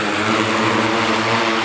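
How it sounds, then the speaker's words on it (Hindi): An agricultural drone spraying pesticide over crops, its loud, steady rotor whine droning close by without a break. "ये देखिए सामने ये ड्रोन है जिससे दवा का छिड़काव हो रहा है।"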